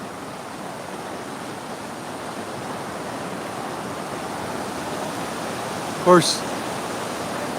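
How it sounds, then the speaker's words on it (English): Rushing water from a swollen street-side stream in Ketchikan, Alaska, a steady broad roar heard close while walking, with a brief voice near the end. "See, it's becoming a raging torrent"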